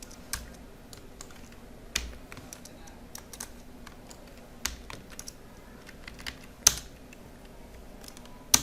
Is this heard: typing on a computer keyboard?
yes